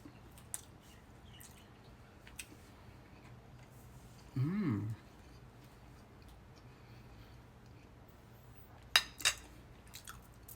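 Mango mochi bread being eaten, with faint, sporadic close-up chewing and a short squishy bite, plus a couple of sharp clicks in a quiet room.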